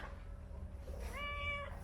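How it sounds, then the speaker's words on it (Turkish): A single soft meow from a street cat on Cunda Island, Ayvalık, faint against a low background rumble. "Merhaba Ayvalık kedisi."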